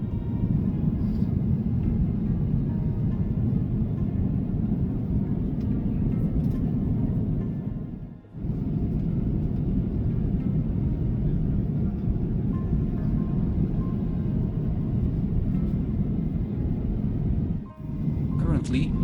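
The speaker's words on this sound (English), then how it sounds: "We are landing at the older one, Beijing Capital." Inside an Air China airliner landing at Beijing Capital, a steady low cabin rumble of engines and airflow drones throughout, with two brief dips in level.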